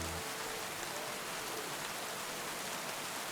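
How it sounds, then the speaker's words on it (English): Steady rainfall in the video game Kingdom Come: Deliverance 2, a continuous soft hiss of rain on surfaces with no voices. "but it is raining"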